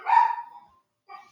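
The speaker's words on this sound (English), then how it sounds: "you guys can probably hear my dogs in the background" Dogs barking indoors in the background, a burst of several overlapping barks followed after a short silence by another brief bark, moderately loud and slightly distant, with no talking.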